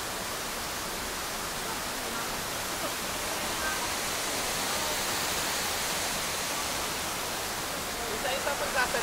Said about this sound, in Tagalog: Dito kami sa Balite Walls! Kita niyo yung falls?